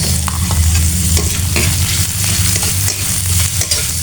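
Ginger and onion stirred and sautéing in a pan for a Visayan-style chicken dish, a steady close sizzle with scraping stirs running throughout, no voices.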